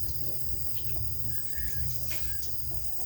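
Chickens cluck softly and intermittently on a farm, with brief calls scattered over a steady low rumble of background noise.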